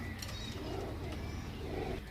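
Golden pigeons coo in low throaty rolls, a couple of birds close by, with steady murmuring calls under faint background noise and no speech.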